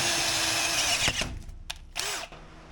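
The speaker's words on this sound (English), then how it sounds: "we're going to be using the battery drill and a regular twist drill bit" Cordless battery drill with a regular twist bit boring through an engine mount on a boat, a loud high whine that cuts off, followed by a couple of short revving bursts.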